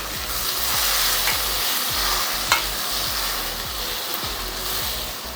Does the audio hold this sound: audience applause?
no